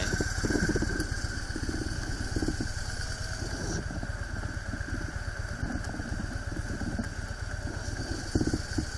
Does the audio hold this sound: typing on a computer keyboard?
no